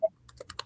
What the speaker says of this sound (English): Somebody typing super loud.